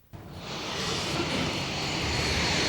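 Iran's first locally made fighter plane, shown during war games exercises, its jet engine a loud, continuous broadband roar that swells in and holds steady without any talk.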